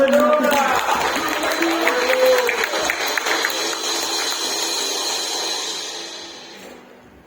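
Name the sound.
congregation cheering and applauding in church service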